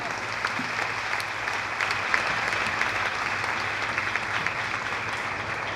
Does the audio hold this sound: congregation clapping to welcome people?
yes